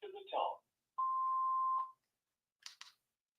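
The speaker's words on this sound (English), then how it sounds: "please leave a message after the tone" A single steady electronic beep from an answering machine, about one second long and clear, with short bits of voice before and after it.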